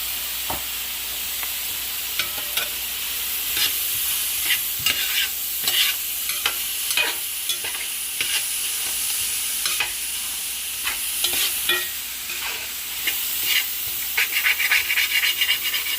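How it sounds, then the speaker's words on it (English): Metal spoon scraping browned bits off the bottom of a hot roasting pot holding seasoned pot-roasted teal duck, a steady sizzling hiss with repeated close scrapes and clinks throughout, no voices. "So I'm scraping that stuff off the bottom."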